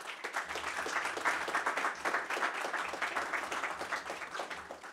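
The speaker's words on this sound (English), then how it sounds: "give a round of applause to our panelists" An audience claps for panelists at the close of a Tax Inspectors Without Borders event, a fairly quiet but continuous patter of hands lasting several seconds.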